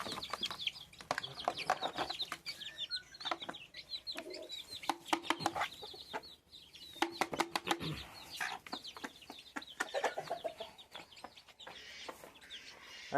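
Busy chick clucking and chirping as they eat feed meal, with pecking taps and occasional wing flaps, close by, with no talking.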